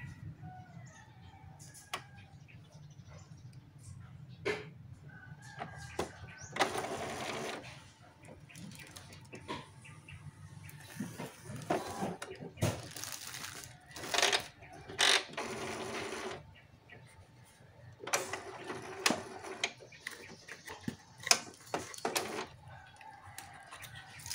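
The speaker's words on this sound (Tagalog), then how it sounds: "Sa prosesong ito, automatikong lilinisin ng printer and printhead niya." An Epson L120 inkjet printer whirs and clicks through a long printhead cleaning cycle, with bursts of motor noise, ratcheting and clunks separated by quieter pauses.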